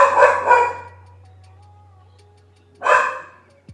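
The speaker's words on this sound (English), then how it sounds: "So my dog's popping off." A dog lets out two quick sharp barks, then after a pause a single louder bark, heard fairly close over a steady low electrical hum.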